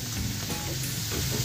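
Shark pieces stir-fry with ginger, fermented soybean paste and oyster sauce in a hot pan, a dense, loud, close sizzle with a brief shuffle of stirring.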